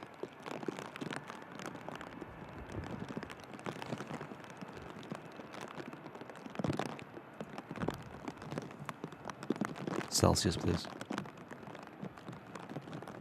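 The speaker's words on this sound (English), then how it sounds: "Yeah, the rain is really falling now, folks." Rain falls steadily at Manchester Airport, a dense patter of drops on surfaces throughout, with occasional heavier gusts and a brief voice speaking.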